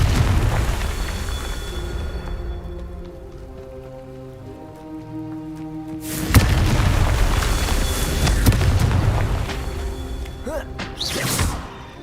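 Booming blasts of the Confringo blasting curse in Hogwarts Legacy, with a heavy explosion around the middle followed by crackling, rain-like debris and another burst near the end.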